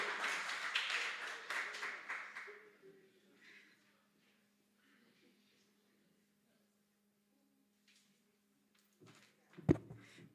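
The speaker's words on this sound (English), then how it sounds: "you received a rousing round of applause" Applause for a speaker at an academic conference fades out over the first few seconds, leaving near silence and then a few faint thumps and handling noises.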